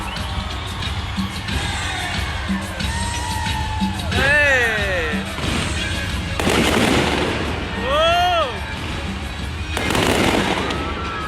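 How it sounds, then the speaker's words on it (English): Fireworks burst outdoors after a baseball game, a string of loud booms and crackling explosions with whistling rising tones, spread over several seconds amid a murmuring crowd and nearby voices. "After the game, the gym had a very beautiful firework."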